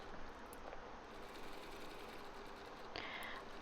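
Sewing machine zigzag stitching around a fabric star for a coin purse, a steady faint mechanical whir running continuously with a soft click near the end.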